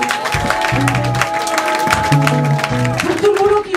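An audience at a charity benefit concert claps in a dense patter of applause, with sustained tones and a voice over a sound system mixed in.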